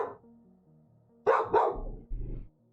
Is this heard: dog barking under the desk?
yes